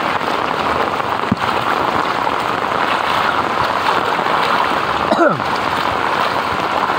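Light drizzle patters steadily over a flooded bus terminal in BGC after a typhoon, a soft continuous hiss with faint water sounds and a brief swish of a passing vehicle near the end.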